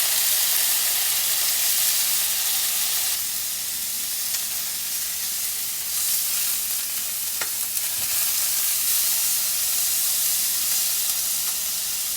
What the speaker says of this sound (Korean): 물이 바글바글 끓는 것 같으니